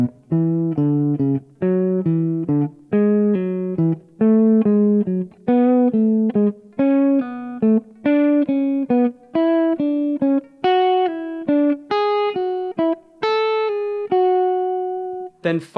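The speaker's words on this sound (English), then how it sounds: "So that means we're ascending the scale, but each individual group is going to descend." A scale exercise played as a long run of clean, evenly spaced sustained tones, grouped in short falling patterns that climb step by step overall, steady and clear with no talking.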